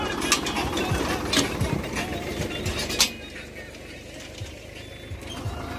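A Mahindra 265 DI tractor sowing guar seed in a field runs with a steady mechanical clatter and engine drone, fairly close, easing slightly after a few seconds, while a voice talks over it.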